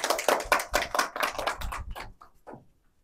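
An audience breaks into clapping, dense and ragged at first, then thinning to a few scattered claps before fading into quiet.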